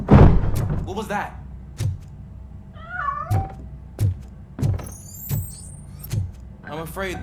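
A cat meows several times amid the creaks and clanks of a door and other mechanisms in the video game Robocop: Rogue City, with a voice talking faintly over parts of it.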